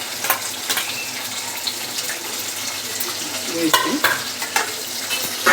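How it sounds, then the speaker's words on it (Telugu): Onions and tomato fry in hot oil for a spicy egg curry, giving a steady sizzle with stirring scrapes and a few louder clatters, while a voice speaks briefly over the cooking. "ఇప్పుడు బాగా ఆయిల్లో వేగనివ్వాలి."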